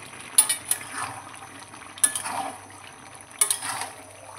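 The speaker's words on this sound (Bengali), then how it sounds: "ভেজে রাখা আলু দিয়ে দেবো" Fried potatoes tipped into a cooking pot of chicken with peas and chicken masala, with a spoon scraping and clinking against the pot in a few irregular strokes, close by with no talk.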